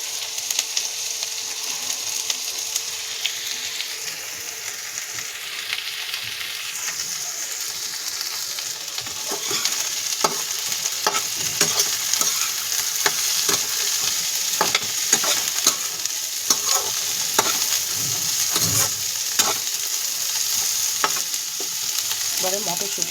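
Onions frying in a pan for palak paneer, a steady close hiss of sizzling oil with frequent sharp scrapes and clacks of a spatula stirring, growing busier toward the end, with no talk.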